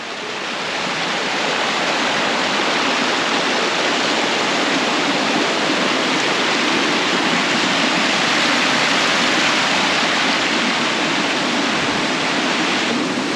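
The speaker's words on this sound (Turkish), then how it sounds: "Bakın buradan şelalenin kaynağı buradan akıyor." A small waterfall and stream pour steadily near a footbridge on a hill walk, producing a loud, continuous broadband rush with no pauses and no voices.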